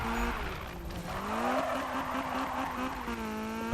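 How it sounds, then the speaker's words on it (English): A front-wheel-drive car in the Need for Speed 2015 racing game drifts with its engine buzzing at a steady high pitch, repeatedly bouncing off the rev limiter with wavering tones and faint tire noise throughout. "The constant rev limiter smacking is just not my cup of tea"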